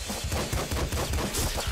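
Dense, continuous gunfire from the top-down shooter Nuclear Throne, with rapid overlapping shots and impacts filling the whole moment at steady loudness, no talking.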